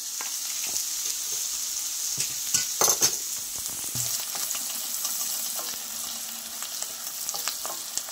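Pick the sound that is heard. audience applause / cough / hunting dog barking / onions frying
onions frying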